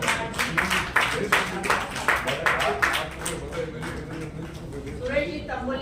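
An audience at an award ceremony and book launch claps in quick, rhythmic bursts that fade to a lighter patter, with people talking alongside.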